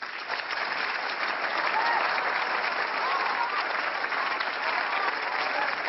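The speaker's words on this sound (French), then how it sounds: "Je vous demande d'applaudir Monsieur Coluche." Sustained applause from a large audience honouring the comedian Coluche, a dense, steady wash of clapping lasting throughout without pause.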